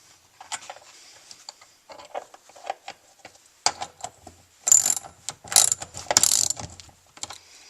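Ratchet tightening bolts on a car handbrake during a frame-up build, short bursts of rapid clicking, close and crisp, growing louder and denser toward the end with pauses between strokes and no talking.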